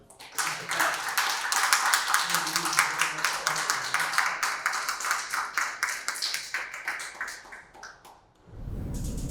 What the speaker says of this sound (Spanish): Cerramos con un aplauso para los muchachos